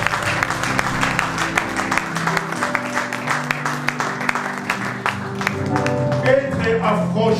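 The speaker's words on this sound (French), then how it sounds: "On acclame très fort pour les frères." A church congregation applauds loudly for the brothers, with dense, rhythmic clapping over sustained music tones and voices, holding steady and swelling slightly near the end.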